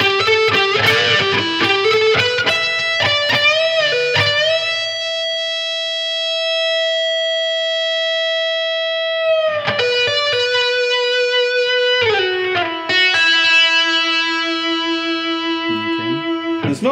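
A distorted electric guitar slowly plays a phrase from a solo: a few picked and slid notes, then long singing sustained tones, then more notes, played alone with no talk.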